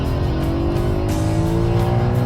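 A BMW M3 engine wails steadily at high revs, well beyond 8,000 RPM, a loud, close, continuous howl with no pauses.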